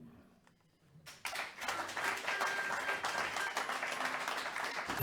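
After a second of quiet, an audience bursts into applause that continues steadily, dense and moderately loud to the end.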